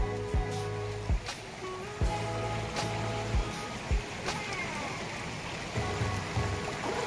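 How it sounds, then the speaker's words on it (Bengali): A fast-flowing stream in a forest in Tripura rushes steadily and loudly over slippery rocks, a constant close wash of water with occasional knocks and faint voices underneath. "জলের আওয়াজ"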